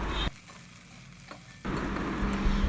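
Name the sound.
onion, curry leaves, green chili and ginger frying in a pan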